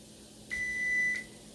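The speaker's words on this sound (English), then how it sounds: "our timer went off" A kitchen timer goes off during French toast cooking, giving a single steady electronic tone that holds for about three-quarters of a second against faint room noise.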